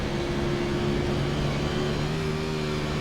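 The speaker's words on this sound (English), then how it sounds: "you can just hear that engine rev, you know, them back wheels just pick right up off the ground" A race vehicle's engine holds a steady, droning hum with a strong tonal whine, near and fairly loud, with no talk over it.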